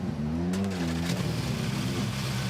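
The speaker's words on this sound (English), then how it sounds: "You can hear in the background there the wonderful noise of these 6 cars being started." Powerful 600 horsepower rallycross supercars are started and idle, a loud low engine rumble with wavering revs and a brief burst of noise, heard close and dominating.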